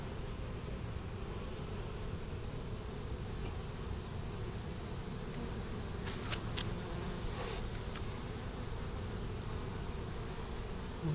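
Honeybees working inside a Langstroth hive as they build their own comb give off a steady, dense buzzing drone that holds unbroken throughout, with a few brief higher whines from individual bees passing close.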